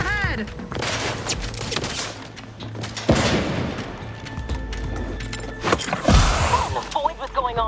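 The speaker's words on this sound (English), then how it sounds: "Did you think shooting up the place was a good idea right now?" Gunfire bursts and impacts in the video game The Outer Worlds 2, several sharp cracks scattered through a busy battle mix with shouting voices and chaotic noise.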